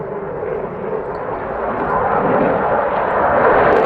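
F-18 fighter jet flying a rolling, yawing manoeuvre at an air display, a loud broadband roar that holds steady and then grows louder as it approaches.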